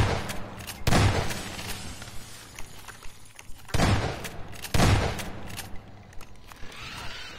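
Gunfire in the video game Half-Life 2: Episode Two, a few heavy booming shots spaced seconds apart with faint softer thumps between them over a quiet background.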